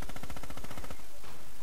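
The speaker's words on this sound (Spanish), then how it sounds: "Nada, disparos por todos lados." Sustained machine gun fire in the WWII shooter Red Orchestra 2, a loud rapid stream of evenly spaced shots that fills the whole moment, then gives way to a denser blur of battlefield gunfire.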